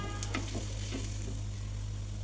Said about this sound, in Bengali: বাকিগুলো আস্তে আস্তে ভাজা হবে।